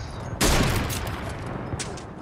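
A loud burst of gunfire in a battle royale shooter starts suddenly and rumbles on as a dense, noisy wash of shots and echoes, close and heavy.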